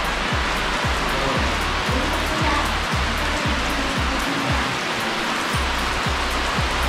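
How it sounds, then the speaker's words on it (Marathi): Steady rain falls outdoors in a rural village, a dense continuous hiss that holds evenly throughout, with repeated low thumps and rumbles beneath it and no voices. "खाली सुद्धा मस्त पाऊस पडतो आहे."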